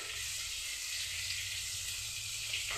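Large pieces of fish frying in hot oil for a Bengali fish curry, a steady, even hiss and sizzle that holds without a break throughout.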